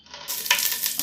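Panch phoron spices hit hot oil with a sudden bright sizzle and crackle, loud and close, spitting steadily for about a second with no voices.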